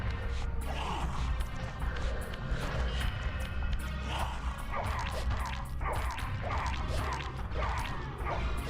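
Dogs bark repeatedly amid a dense, steady background of game noise in the video game Soul Reaver, with sharp barks recurring every second or so.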